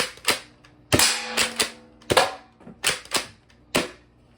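A Nerf Pro Torrent blaster dry firing, giving a series of sharp, close snapping clacks spaced irregularly with brief mechanical rattles between them, loud and alone without talk.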